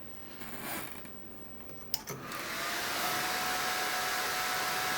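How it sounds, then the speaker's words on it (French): The cooling fan on an Asus P5S800-VM/S computer motherboard spins up after a couple of small clicks, settling into a steady, fairly quiet airy whir with a faint high whine. "Je vais vous mettre le bruit du ventilateur aussi"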